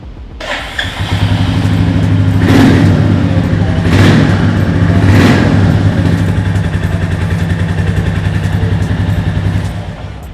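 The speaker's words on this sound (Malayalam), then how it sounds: "അപ്പോൾ ജസ്റ്റ് നമുക്ക് വണ്ടി സ്റ്റാർട്ടാക്കി നോക്കാം" A Royal Enfield Goan Classic 350 motorcycle's single-cylinder engine starts after a brief click and settles into a steady, loud, close-up thumping idle, with a few revs blipping upward partway through and no talking.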